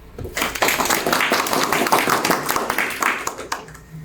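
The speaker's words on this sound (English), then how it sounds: "please join me in giving a round of applause and a warm welcome to Dr. Brown" Audience applause welcoming the presenter of a Chicago-style citations workshop, a brief burst of moderate clapping from a modest group that rises quickly and tapers off within seconds.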